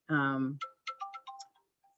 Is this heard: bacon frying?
no